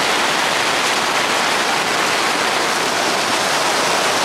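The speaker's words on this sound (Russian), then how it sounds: "Начался вот такой дождик." Rain comes down during a fishing trip from a boat: a dense, even, close hiss of drops that continues unbroken and fairly loud, with no talking.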